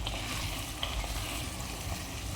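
Garlic and ginger paste frying in a pan, a steady close sizzle with faint crackles and an occasional stirring scrape, no voices.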